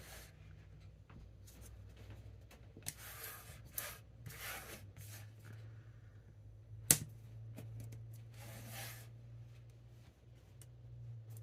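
Blade cutting around the small magnet in a makeup palette while depotting Colorpop and Ofra palettes, heard as quiet, scattered scraping bursts with one sharp click near the middle.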